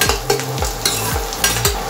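Onion sautéing in a hot pan while a spoon stirs it, giving a loud, steady sizzle broken by repeated scraping strokes, close up with no talking.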